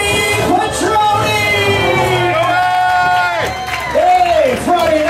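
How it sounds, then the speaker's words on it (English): Comedy club crowd cheering, whooping and clapping for a comic being introduced on a Friday night, a dense, loud wash of applause with shouting voices throughout. "Come on, clap it up, ladies and gentlemen, for Joey Quattroni!"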